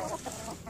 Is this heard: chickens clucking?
yes